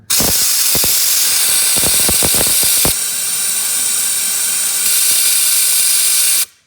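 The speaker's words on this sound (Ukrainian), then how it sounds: "І вставляємо компресор, дивимось в баклагу і дмем." A compressor nozzle blows a loud, steady hiss of air through a car heater radiator, with intermittent sputtering gurgles in the first three seconds before the blast continues evenly and then cuts off.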